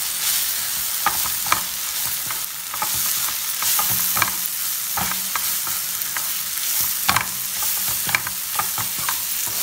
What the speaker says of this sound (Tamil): இப்போ முதல்ல இதை வதக்கிக்குவோம்.